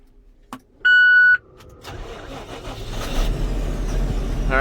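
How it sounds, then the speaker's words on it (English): A tractor engine turns over after a short electronic beep, then settles into a steady, building rumble as it idles and warms up, with no talk over it. "gonna let this tractor warm up a little bit here"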